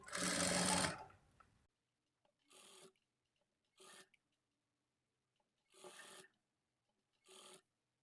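A sewing machine stitches a loose tacking seam on a lined blouse, running in a longer opening burst and then four short separate bursts with near-silence between them, close up and clear.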